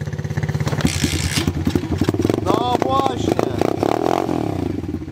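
Off-road motorcycle started up outdoors, catching with a rattling clatter and then revving unevenly with a buzzing, throbbing engine note, loud and close, while people talk briefly over it.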